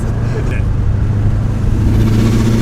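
A Subaru STI with a loud external wastegate and turbo drones steadily from inside the moving car, its low engine tone holding even and loud throughout.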